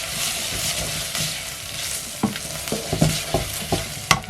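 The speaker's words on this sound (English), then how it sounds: "Now this is meant to be stir fried for another 2 minutes" Curry base for a cod fish curry stir-fried in a pan, a steady sizzle broken by a series of scraping, clattering stirring strokes, close and fairly loud.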